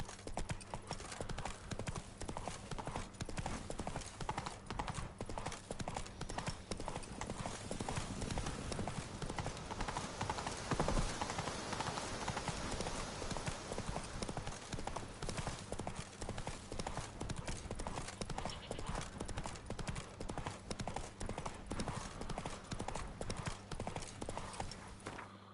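Roach the horse trotting in The Witcher 3, a steady rapid clip-clop of hooves running throughout with a brief louder swell midway, faint speech occasionally beneath.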